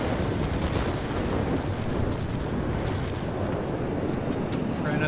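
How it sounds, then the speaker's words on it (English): A heavy bomb blast in World of Warplanes lets out a deep, sustained rumbling roar that stays loud and dense throughout with no clear breaks. "Another bomb dropped right in the center."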